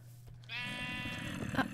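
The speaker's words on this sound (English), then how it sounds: "I thought that was a baddie then, but it's just a sheep." A single sheep bleats in the video game Minecraft: one drawn-out, wavering bleat that begins after a brief pause and carries clearly over low background sound.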